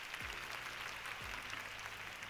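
A steady wash of applause fills a studio talk show, even and sustained throughout, fairly quiet, with a couple of low thumps beneath it.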